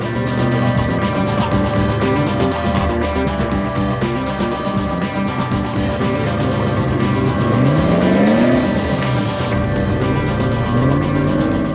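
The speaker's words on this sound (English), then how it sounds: "The off-roading is a great way to take things up a gear." Off-road vehicle driven around a farm with a passenger aboard, its engine loud and steady throughout, rising in a revving sweep near the end.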